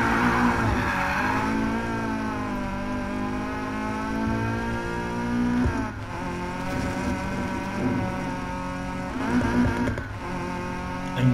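Volkswagen Golf GTI engine in Need for Speed Payback, a steady harmonic drone that rises and falls through gear changes over about eleven seconds, with brief dips and renewed revving, loud and close with no talk.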